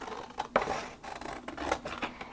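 Scissors snipping a piece of paper along drawn lines for a card-making project, a series of quick close crisp cuts with small rustles between, no voices.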